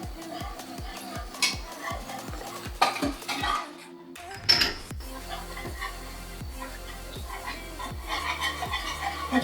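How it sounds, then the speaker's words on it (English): A whisk beats milk into a flour-and-butter roux in a pan for a cheesesteak sauce, giving a rapid, steady metallic clatter against the pan with a faint sizzle underneath. "keep whisking until it's well combined and it starts to thicken"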